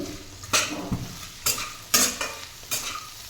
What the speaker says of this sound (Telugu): ఉప్పు కారం పసుపు యాడ్ చేస్తాం కదా ఇవన్నీ కూడా దొండకాయ ముక్కలకి పట్టేలాగా ఈ విధంగా కలుపుకుంటూ ఫ్రై చేసుకోవాలండి